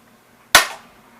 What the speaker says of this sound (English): It's just a BB pellet gun.